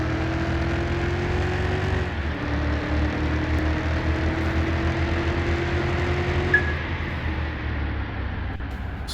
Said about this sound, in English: Hear that turbo on it.